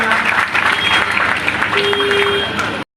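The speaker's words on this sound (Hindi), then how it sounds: "एक बार जोरदार तालियां।" Loud, dense applause from an audience at a village public-dialogue meeting in a panchayat in Darbhanga, Bihar, steady for nearly three seconds before cutting off abruptly, with faint voices mixed in.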